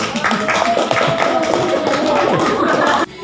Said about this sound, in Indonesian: Jadi kita berikan tepuk tangan dulu untuk kelompok 1.